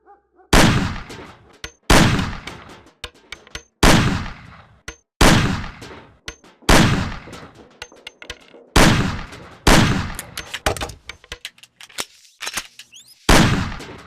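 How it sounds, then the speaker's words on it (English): Single pistol shots fired at cans on a table in the game Mafia: The City of Lost Heaven, about ten loud, sharp reports spaced roughly a second apart, each with a short ringing decay. "Shoot the cans off of the table."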